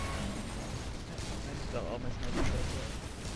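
Heavy weapon fire in Destiny's Vault of Glass raid, a rumbling stream of booming shots and blasts running under a steady wash of noise, fairly close, with talking over it.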